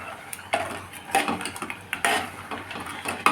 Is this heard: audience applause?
no